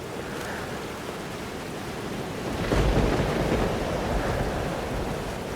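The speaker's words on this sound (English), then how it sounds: "Weather's worse than I remember it. Storm followed me." A storm rages in the video game Life is Strange Double Exposure, with dense rain hiss and a deep rumble of thunder swelling partway through and lingering, loud and enveloping with no voices.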